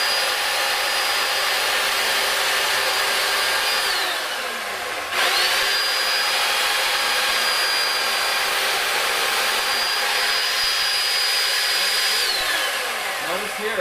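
A chainsaw shaves and picks at wood during carving, a loud, continuous high whining drone with a brief dip in revs partway through before it roars back, close and steady with no talking.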